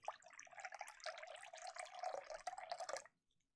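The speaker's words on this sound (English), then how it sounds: "I'm going to pour the water." Water being poured in a steady, splashy stream for about three seconds, close and fairly quiet, then cutting off abruptly into near silence.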